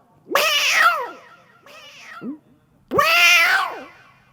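At a live Gujarati folk dayro in Rajkot, a person imitates a cat, giving three drawn-out meows, the first and last loud and whiny, the middle one shorter and softer.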